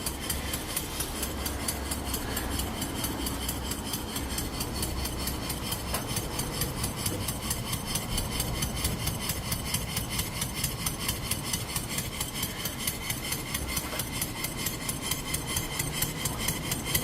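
A Stuart James Coombes model engine built from castings runs on compressed air with a fast, even chuffing beat and light mechanical knocking, steady and moderately close throughout with no talk.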